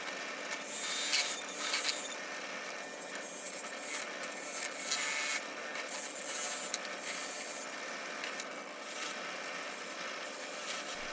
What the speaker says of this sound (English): Here I'm cleaning up the cutter guard and the fence.